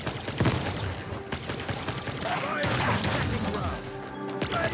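Gunfire from a weapon in the game Anvil: Vault Breaker, sharp repeated shots in quick bursts over dense game sound and music, loud and close.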